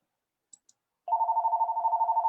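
A phone rings with a steady warbling electronic trill that starts abruptly after two faint ticks and continues loud and close without pause.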